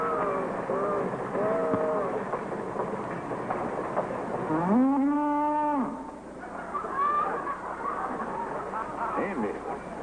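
A cow lets out a long, loud moo in the middle, amid a busy background of other animal calls and voices.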